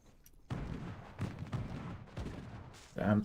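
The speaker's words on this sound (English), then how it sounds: "The artillery continues to rain down," Artillery shells land around a World War I–style trench in the game Reverse: 1999, several heavy booms striking in a loose irregular sequence, each with a broad rumbling burst, moderately distant and fairly quiet overall.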